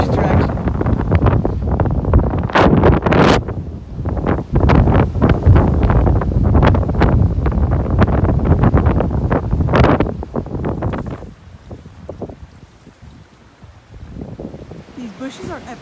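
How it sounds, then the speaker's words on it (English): Strong wind buffets the microphone at a window in a former volcanic mountain area in Texas, a loud, steady roar with gusts that drops sharply toward the end as a voice talks over it. "I'm afraid I might get blown off the edge if the wind switches direction."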